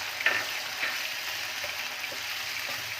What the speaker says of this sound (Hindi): चिकन के साथ अब हम डाल देंगे प्याज।